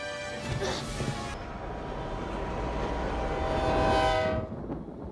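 Train rumbling along with wagon clatter and a sustained horn-like tone rising and fading over several seconds, a voice talking over it.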